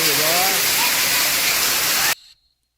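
Steady heavy rain pours down in a dense, even hiss that fills the air, with a voice briefly audible underneath, before the sound cuts off abruptly into near silence.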